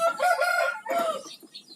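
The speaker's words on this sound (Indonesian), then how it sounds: "Dan ini ayam dari kandang 6." A chicken from a coop on a small-plot poultry farm gives two short bursts of clucking calls, close by and fairly clear, with a brief pause between them.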